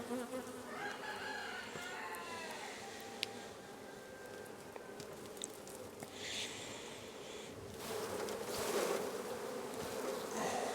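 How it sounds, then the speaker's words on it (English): Many honeybees buzz in a steady, close drone at an open WBC hive as bees are shaken off a frame, swelling louder toward the end, with faint chirps in the background. "I'm going to shake some bees off here into there"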